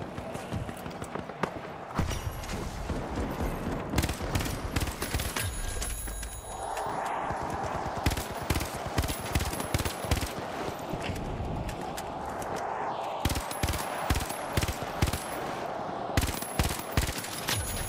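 FAMAS assault rifle firing in the first-person shooter The Finals, rapid bursts of sharp close gunshots in repeated clusters with short pauses between them, loud and dominant throughout.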